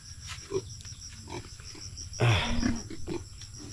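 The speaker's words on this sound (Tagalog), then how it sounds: "tingnan nyo yung baboy mo daw, malapad ng buko-buko" A pig grunts and snorts close by, giving a few short grunts and then one louder, rougher snort partway through, against outdoor background noise.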